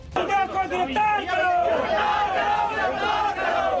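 An angry crowd of BJP workers shouting and clamouring at a police station, a dense, loud mass of raised voices and yells filling the whole stretch without a break.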